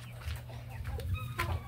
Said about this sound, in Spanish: Ahorita les vamos a mostrar las gallinas.